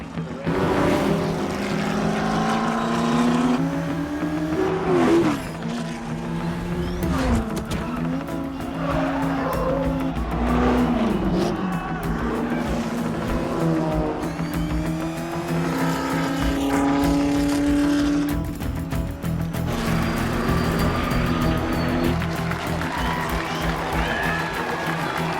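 Race cars, including a Porsche, roaring past on a circuit in a racing film, with engine notes rising and falling through gear changes, tire squeals and shifting Doppler sweeps, loud and continuous throughout.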